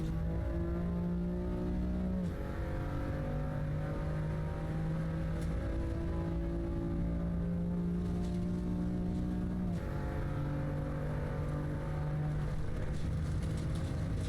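A race car engine drones steadily in the video game Real Racing 3, climbing in pitch through the gears and dropping at each shift along a long straight, loud and continuous with no voices.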